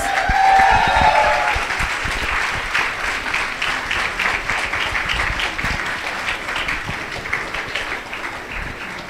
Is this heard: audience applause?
yes